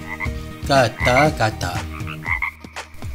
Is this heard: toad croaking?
yes